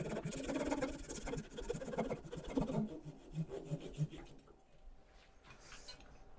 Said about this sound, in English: I'm just going to take it the rest of the way with a handsaw